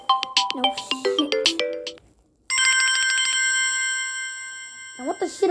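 A cell phone ringtone chirps a quick melodic phrase, goes quiet for a moment, then switches to a long sustained bell-like electronic ring that fades slightly before short chirpy notes return at the end.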